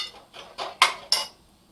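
A spoon scraping and clinking in a pan while chili powder is stirred into a whole masoor lentil curry, five short rhythmic strokes, close and fairly quiet, with no talk.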